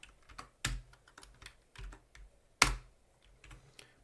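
Typing on a computer keyboard: scattered, close key clicks in an irregular rhythm, with two sharper, louder strikes standing out among softer taps, and no voices.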